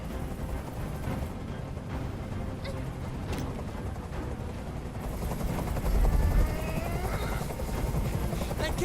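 Helicopter rotor drone from the video game Detroit: Become Human, a steady broadband rumble that swells louder midway, layered with a dense low roar and scattered sharp noises.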